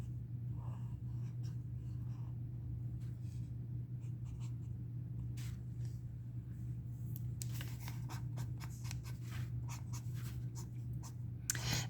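Markers scratch across acrylic painting paper while highlights are drawn on, giving intermittent dry, scratchy strokes in short bursts and a denser run near the end, over a low, steady background hum.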